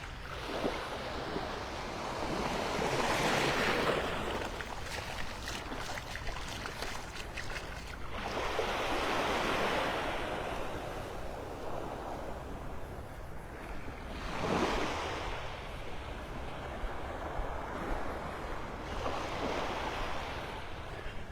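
Ocean waves on Vanderbilt Beach in North Naples, Florida, rolling in and washing ashore in slow surges every several seconds, with steady wind rumbling across the microphone between breaking swells.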